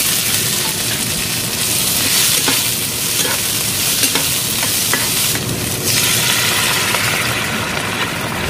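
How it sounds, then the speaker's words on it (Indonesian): Onions sauté in a hot pan with a loud, steady sizzle and frying crackle, stirred now and then, close and continuous throughout. "Yang pertama bawangnya ditumis dulu sampai harum."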